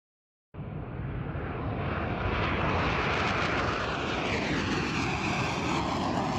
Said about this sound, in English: This is another video, though. This is during takeoff.